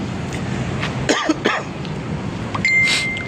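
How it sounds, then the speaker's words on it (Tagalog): A person coughs twice in quick succession outdoors at the Esplanade along the Pasig River, over a steady hum of background noise, followed by a brief high tone. "Ay, grabing ubo ko ngayon,"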